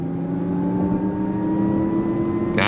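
2023 Lexus RZ 450e electric SUV on 20-inch wheels accelerating at full throttle in sport mode, a loud steady electric motor whine with rising tonal hum and road noise, heard from inside the cabin without talk.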